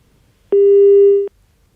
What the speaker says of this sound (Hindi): लगता है फोन कट गया